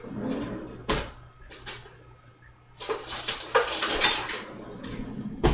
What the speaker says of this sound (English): We like to use a great big fork like this when we check our potatoes.